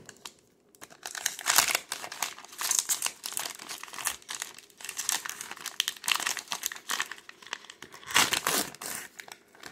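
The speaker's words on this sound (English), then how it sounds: "Welcome back to another Fat Pack opening of 2022 Donruss Racing" Foil wrapper of a 2022 Donruss Racing trading card fat pack crinkles and tears open, a steady run of close, bright rustling with louder bursts of crumpling, no voices.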